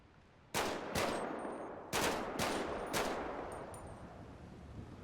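Single gunshots fired at a target in GTA V roleplay: five sharp, loud cracks spaced about half a second to a second apart, each with a brief echoing tail, then quiet, with no talk.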